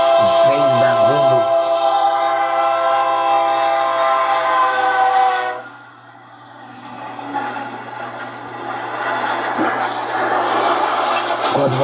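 A long, loud horn blast from a Rumo freight locomotive with wagons cuts off midway, leaving the rumble and clatter of rolling rail cars and a steady low engine drone.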